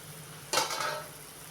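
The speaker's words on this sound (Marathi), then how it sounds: "त्याला खालच्या बाजूने छान प्रकारे लालसर कलर येईपर्यंत तळून घ्यायचे आहे" Balushahi pastries frying in hot oil give off a sudden burst of sizzling that starts partway through, then settles into a softer, steady crackle, with no talking.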